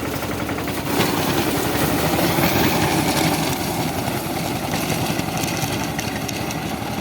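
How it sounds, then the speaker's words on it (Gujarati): A Captain mini tractor works a castor field, its engine running at a loud, steady chugging drone with a rapid rattling pulse and no letup, close to the recorder, with no voices. "આપણે મિની ટ્રેક્ટર છે, કેપ્ટનનું ટ્રેક્ટર છે, અને આજે આપણે હાંકવાનું ચાલુ કરી દીધું છે।"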